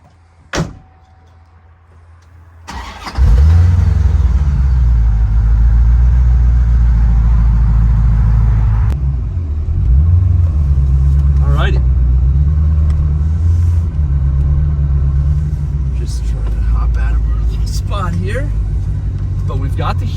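A 1993 Corvette Callaway Supernatural 450 cranks and fires up, then settles into a loud, deep, steady idle rumble heard from close by, with a voice talking over it.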